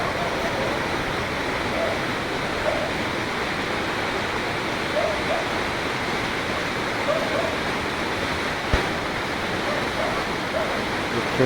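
The fast Parvati River rushes in a constant, dense roar, steady and loud throughout like a mountain torrent close at hand.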